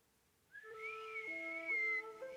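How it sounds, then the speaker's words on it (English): A melodic whistle in the video game Ghost of Yotei, a short tune of a few clear sustained pitches that rise and step down, close and prominent over a quiet background. "Maybe if you try whistling."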